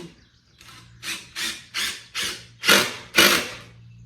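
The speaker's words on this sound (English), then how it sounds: "Just drill that down a little bit, make sure it catches good." A power drill drives a screw in a series of short, rising whirring bursts, each louder than the last, close by.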